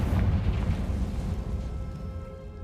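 A Confringo fire-blast spell in Hogwarts Legacy goes off with a deep rumbling boom that slowly fades into a low, decaying roar.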